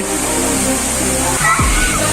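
Water rushes at a waterfall in Srimongol, heard up close as a continuous broadband roar while a voice speaks over it.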